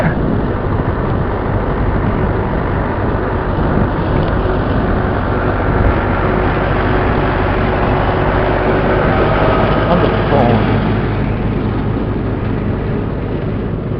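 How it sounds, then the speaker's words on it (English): A tractor engine runs at a distance outdoors, making a steady, unbroken low rumble with a broad mechanical drone that holds an even level for the whole stretch, with no talk over it. "That's a tractor."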